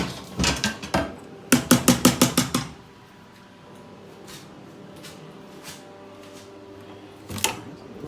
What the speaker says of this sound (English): I'm going to cover it up. I need to take the spoon out.